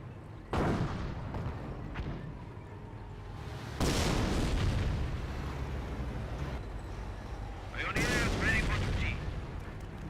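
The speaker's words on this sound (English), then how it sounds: "Good grenadier mortar hits on the grenadiers." Mortar shells strike German grenadiers in the World War II strategy game Company of Heroes, with several booming impacts at intervals and rumbling battle noise throughout.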